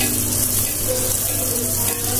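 Teler pitha, a Bangladeshi fried cake, sizzling in hot oil with a loud, steady, dense hiss and crackle that holds without a break, close up.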